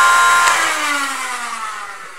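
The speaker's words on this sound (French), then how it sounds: "C'est le moteur de ton blaster, ça" Motor of a Dart Zone Spectrum foam blaster with the barrel removed and fresh batteries, a loud close electric whir that spins down steadily in pitch over about two seconds.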